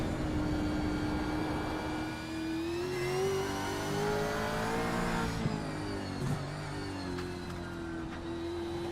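ARS Pushrods and Popcorn series race cars accelerating at Sonoma Raceway, a loud, continuous engine roar rising and shifting in pitch as the cars pull away, overlapping engines droning for several seconds.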